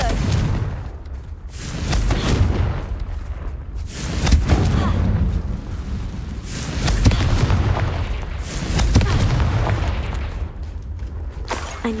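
A Confringo spell blast in the Hogwarts Legacy video game, rendered as continuous heavy, rumbling booms and crackling explosions that swell and fade in waves over several seconds, loud and close.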